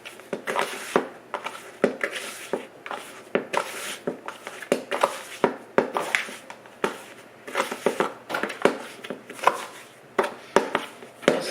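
Repeated firm knocks and slaps as sticky yeast dough for dinner rolls is cut and divided into eight pieces on a work surface, an irregular close rhythm of thuds continuing steadily without talk.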